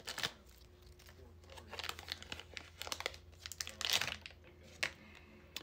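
A hockey card pack being slit open with a knife, producing close, quiet crinkling and tearing of the foil wrapper in irregular bursts, with no talk.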